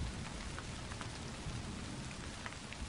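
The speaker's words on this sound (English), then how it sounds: "it's gonna start raining again" Steady rain pours down in the horror game Tsugunohi, a dense, even hiss with scattered droplet taps and a low rumbling undertone, continuous throughout.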